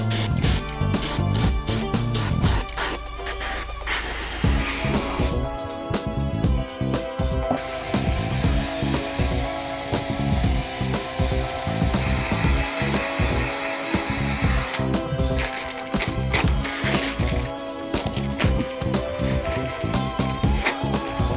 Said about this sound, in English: for these areas, they got to be airbrushed. We're going to be using Jacquard's tan leather,